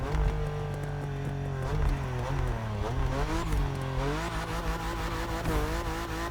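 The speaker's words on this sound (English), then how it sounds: "The exhaust pops are a little bit fake." A BMW M4 in the racing video game The Crew Motorfest revs steadily with a loud, continuous engine drone and scattered crackling exhaust pops, close and alone with no talk.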